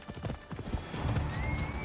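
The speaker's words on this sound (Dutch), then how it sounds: "mijn paard komt ook even gewoon uit het water" Horse hooves clip-clop at a steady trot in the video game Assassin's Creed Odyssey, close and fairly loud, with a brief whinny-like tone over the rhythmic hoofbeats.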